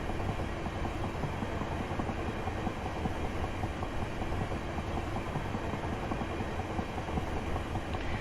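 A Class 375 electric train rolls along in Train Simulator 2018 while braking, a steady dense rumble with faint rail clatter, continuous and without voices.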